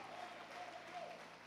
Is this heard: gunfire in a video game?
no